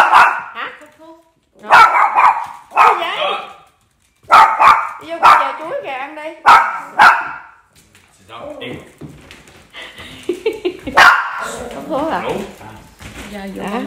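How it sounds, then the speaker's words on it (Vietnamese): A dog barks in several loud, close bursts, mixed with frequent overlapping speech from people nearby. "Kìa, sủa làm gì nhỏ sợ ghê vậy?"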